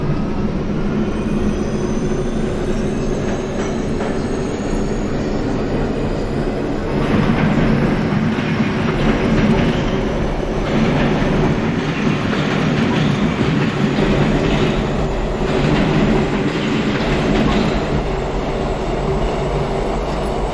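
An R38 subway train on the Q line to Brighton Beach runs in the OpenBVE train simulator game. Its loud, steady rumble is broken by repeated clickety-clack wheel beats over the rail joints, with no talking.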